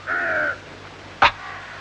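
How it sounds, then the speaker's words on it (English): Crows cawing as they circle in the sky, one drawn-out call followed by a short sharp caw about a second later, fairly close and clear with no talk. "The crows are circling around in the sky."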